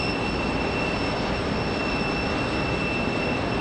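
An Alaska Airlines airliner descends to land at Raleigh Durham airport, a steady loud broadband jet roar with thin whining tones running throughout, without speech.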